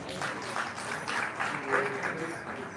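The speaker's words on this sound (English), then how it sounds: "Another round of applause." Steady audience applause from a crowd at a summit in Nigeria, a dense wash of clapping that swells slightly midway and keeps going without any voices over it.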